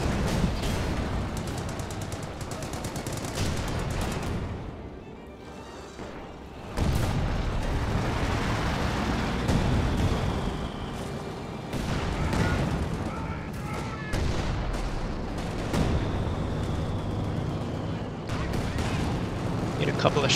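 Heavy battle sounds from Company of Heroes 2, with booming Pak 43 anti-tank gun fire among scattered gunshots and explosions, loud and continuous, and a voice talking over the action.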